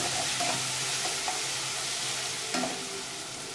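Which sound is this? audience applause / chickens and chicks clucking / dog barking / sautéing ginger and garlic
sautéing ginger and garlic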